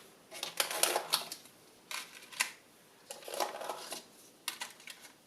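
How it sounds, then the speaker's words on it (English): Plastic paint cup lids are set down in a pile, giving several soft clusters of light clattering and tapping in separate bursts with quiet gaps between, heard close and without talk. "I'm setting my lids in a nice pile."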